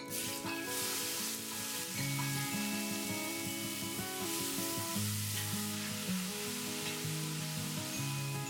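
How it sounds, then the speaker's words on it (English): Three medium finely chopped onions sauté in hot oil, giving a steady, close sizzle with occasional stirring scrapes running throughout. "So I'm going to saute these onions till they are soft and translucent."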